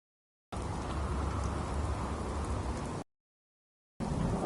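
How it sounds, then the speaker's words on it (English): Steady, dense rain in Fallout 4 hisses loudly for a few seconds, cuts out abruptly, then resumes after a short silence. "how wonderful it would be to get out of this infernal rain"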